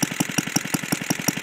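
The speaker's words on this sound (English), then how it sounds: "Idle's nice and slow. It's a happy engine." A 1948 Briggs and Stratton WI small engine, about 16 cc and half a horsepower, idles slowly and close up with an even, rapid thumping beat of firing pulses.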